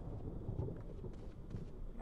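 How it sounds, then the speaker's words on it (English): A thunderstorm in a Resident Evil game rumbles with low rolling thunder under steady rain and a few spattering drops, soft and distant with no talking. "I think the storm's getting worse"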